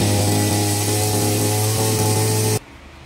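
Small grass cutter engine running at high revs nearby, a loud steady buzzing drone that cuts off abruptly near the end, with no voices.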